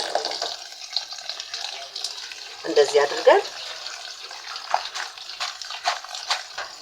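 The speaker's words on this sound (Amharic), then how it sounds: "በቀዝቃዛ ውሃ እናለቀልቀዋለን።" Cooked pasta is rinsed with cold water in a strainer, the running water hissing and splashing steadily while someone talks over it.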